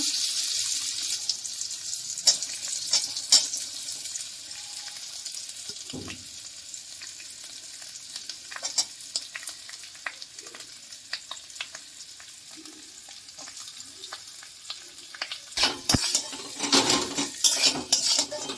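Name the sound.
boiled potatoes stirred and frying in a pan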